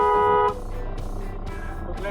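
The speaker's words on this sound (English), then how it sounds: "So what was the honking for?" A truck horn honks from a road vehicle, a loud sustained blare that cuts off after about half a second, leaving a rumbling engine and traffic drone with faint recurring thumps.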